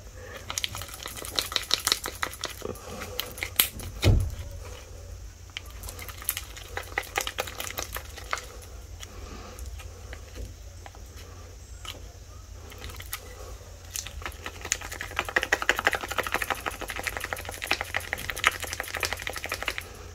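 Homemade modeling paste for scrapbooking is scraped and stirred around a bowl with a spoon, a long run of rapid, close tapping and scraping clicks in busy bursts, no talk over it.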